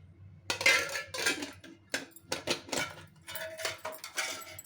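A spoon scraping and clinking in a pan while semiya kesari with ghee is mixed, a run of close, bright metallic strokes in uneven bursts with short pauses between.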